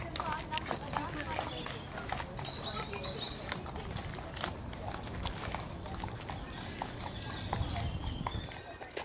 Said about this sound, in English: Why does this horse keep on stopping?